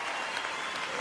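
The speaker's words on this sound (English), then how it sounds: "Round 2 of the applause." Steady, dense applause from a studio audience or crowd fills the whole short moment at an even, loud level, with no pauses or voices standing out.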